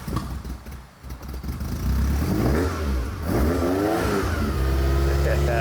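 A Ferrari fitted with a Toyota engine revs up and settles into a deep, droning rumble under a mid-pitched engine note. The sound builds and dips across several seconds, with voices speaking over it at times.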